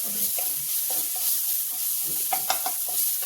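Green chillies are stirred into a tomato masala frying in a pan for an aloo gobi dish, giving a steady close sizzle with a few sharp spatula scrapes and clicks toward the end, with no voices.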